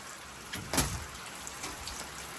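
Rain falls outdoors as a steady wash of hiss and patter, with one brief louder knock or splash near the middle and no voices.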